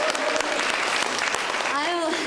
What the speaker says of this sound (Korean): 여러분 감사의 박수 한번 보내주세요